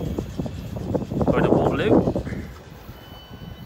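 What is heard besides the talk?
suburban train arriving at Clapham Junction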